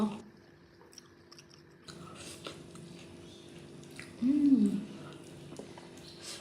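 Close-up chewing of pakoda fritters made with cabbage and onion during a mukbang: soft, wet mastication throughout, with a louder crunchy bite burst near the end.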